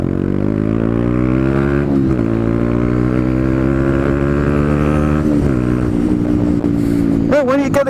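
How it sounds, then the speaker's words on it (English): A Honda CB125R 125cc motorcycle's exhaust drones steadily and loudly as the engine revs up through the gears during a ride, dipping briefly between pulls and rising again with a sharp high whine near the end. "And that sounds cool, that exhaust, it sounds brilliant."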